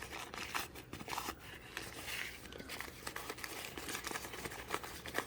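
Thin paper coffee filters for reusable K-cup pods crinkle and rustle while being handled up close, in steady, busy bursts of crackling throughout with no talking.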